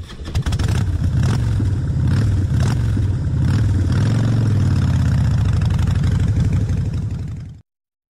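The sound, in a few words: motorcycle engine running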